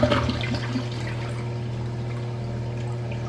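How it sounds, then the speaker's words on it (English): A third-generation Eljer Savoy front-flush toilet flushes with a brief rush of water, then settles into a steady, moderately loud refill and running-water hiss. "The flush isn't too bad for a front flusher, honestly."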